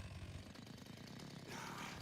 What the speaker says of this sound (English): With the chainsaw sword.